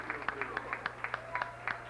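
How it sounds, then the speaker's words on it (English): Scattered, fairly distant clapping at a youth hockey championship game, sharp hand claps spaced through two seconds over a low arena hum and faint voices. "You can hear the applause"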